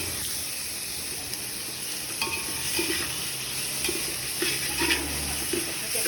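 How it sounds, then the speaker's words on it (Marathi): Onion cooking in oil in a pot for a crab dish, a steady close sizzle and hiss with occasional stirring scrapes and clatter, no talk. "पहिला आम्ही टोपामध्ये तेल टाकलेलं आहे आणि त्याच्यात कांदा शिजत ठेवलेला आहे."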